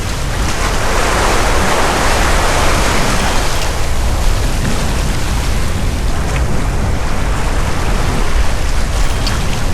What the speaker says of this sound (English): Then the wind arrives, and with it, waves.